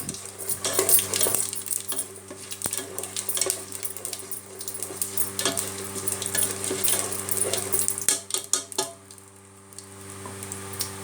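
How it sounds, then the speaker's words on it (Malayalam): Fennel seeds fried in a pan for aloo paratha are stirred with a metal spoon: quiet clinks and scrapes against the pan over a soft sizzle, with no talking. "അപ്പം ഞാൻ അതിലേക്ക് ആവശ്യമായിട്ടുള്ള പെരുംജീരം വന്നിട്ടുള്ളത് അതൊന്ന് ജസ്റ്റ് ഇളക്കി കൊടുക്കാം"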